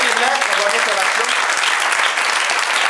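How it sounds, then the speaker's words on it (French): Dense, loud applause from the audience at an improv match fills the whole stretch, with voices mixed into the clapping. "Hey, elle applaudit bien fort, ils ont été excellents"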